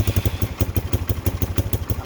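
A cheap Chinese ATV's engine runs close by after revival, its carburetor needing work, throttle held open to keep it going; a rapid, even, chugging pulse thumps steadily throughout.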